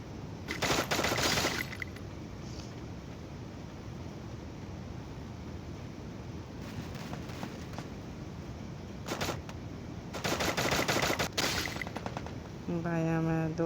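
Rapid bursts of automatic gunfire in the Free Fire battle royale game, several clusters of fast rattling shots separated by quieter gaps, with a short chime-like game sound at the end.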